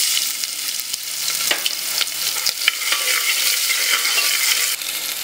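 Onion hitting hot ghee in a tempering pan for multigrain porridge gives a loud, steady sizzle and crackle, with a few sharp pops and utensil taps scattered through it. No one speaks.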